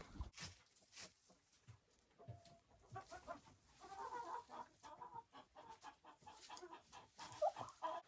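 Adler hens cluck and murmur softly while pecking at cabbage in their coop, a steady busy flock chatter with scattered sharper calls, fairly faint and without speech.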